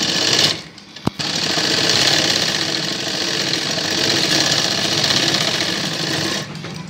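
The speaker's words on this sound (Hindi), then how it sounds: "इस तरह से फिर हमें इस किनोरी पे एक एक सिलाई लगानी है।" A sewing machine runs continuously for about five seconds, close and loud, stitching the edge of a child's Afghani salwar, with a brief click near the start.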